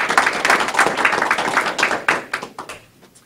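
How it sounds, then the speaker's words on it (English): A room full of people at an anniversary event applauds, a dense wash of clapping that fades out over a few seconds. "join me in a round of applause for your leadership"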